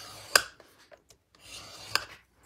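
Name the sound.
scoring cardstock for a card fold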